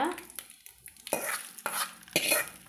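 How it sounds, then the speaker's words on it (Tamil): Hot tempering of mustard seeds, urad dal, dried red chili and curry leaves in oil poured into a ridge gourd peel chutney, giving sharp sizzling bursts and stirring scrapes in three distinct surges, close and fairly loud, with no voices. "தாளிச்சு எடுத்ததில் நம்ம கொட்டிக்கலாங்க"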